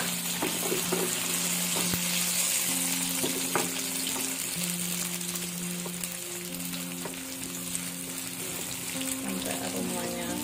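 Chopped onions and chili sizzle in a hot pan for an Indonesian green-chili dish, with a steady, bright frying hiss throughout, a few soft stirring clicks and faint tonal hum underneath.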